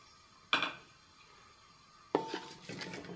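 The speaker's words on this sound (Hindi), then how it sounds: "ये मैं 150 ग्राम ऑयल डाल रहा हूँ इसमें और ये खड़े मसाले हैं जो ये मैं डाल रहा हूँ इसमें" Whole spices tipped into about 150 grams of hot oil in a pan for mutton chaap karahi, two metallic clatters of utensil against pan with a brief crackle, separated by quiet.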